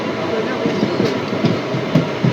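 Porbandar-Rajkot passenger train pulls away and picks up speed, its wheels tapping out a quick, regular clickety-clack over the rail joints beneath a constant rolling rumble.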